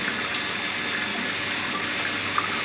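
Water rushes steadily through lab pipe fittings after two valve knobs are opened, a constant broadband hiss of flow at close range with no break from start to end.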